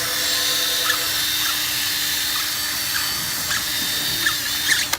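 Reamer working a part during a Tekno ET48.3 RC drift car rebuild, a steady close whirring grind with a thin high whine and a few faint clicks.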